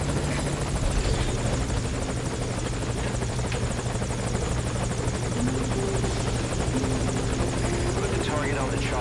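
A helicopter flies in a video game, its constant, loud rotor buzz and engine whine filling the whole stretch with a steady chop and faint tonal hums, while voices talk over it.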